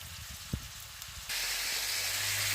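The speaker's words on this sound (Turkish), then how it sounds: "Bu esnada da etimizi karıştırmaya devam edeceğiz." Lamb meat sizzling in a hot pan while being stirred, a few clanks of the utensil followed by a sudden, steady, loud hiss of frying.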